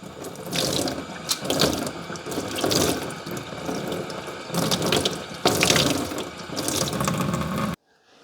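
A Shark AI robot vacuum filter rinsed under a running tap, with a steady close gush of water splashing in a sink that shifts in loudness as the filter is moved, then stops abruptly near the end.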